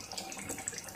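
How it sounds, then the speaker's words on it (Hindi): Water boils in a pot of chicken on a high flame, making a soft continuous bubbling and gurgling that is faint and close, with no talking. "तो ये देखें पानी खोलने लग गया जल्दी से, आग मैंने तेज़ कर दी थी"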